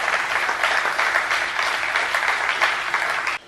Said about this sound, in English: give you guys a round of applause for being here and your support